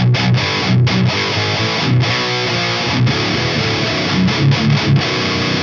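Heavily distorted electric guitar riffing through a high-gain MESA Dual Rectifier amp, dry, thick and saturated, with short chugging chords and brief pauses between phrases.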